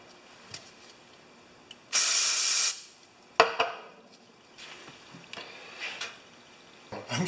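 Carb cleaner is blown off a pressure washer pump part in one loud, hissing spray burst lasting under a second. Scattered small clicks and tool handling noises follow close by.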